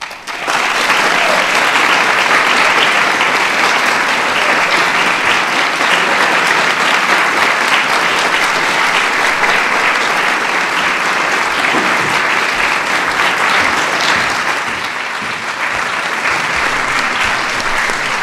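A large audience at a national arts and humanities medals ceremony gives sustained, loud applause for an award recipient, a dense even roar of clapping that holds steady for many seconds, dipping slightly near the end.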